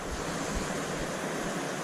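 Steady broadband rush of running water in the Glendalough valley, loud and continuous throughout with some low wind buffeting on the microphone and no voices.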